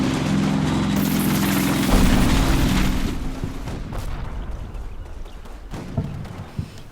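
A loud explosion rumbles through a Combat Mission battle in wartime Germany, a heavy boom with a sustained low roar that decays over several seconds, followed by scattered smaller pops and distant bangs.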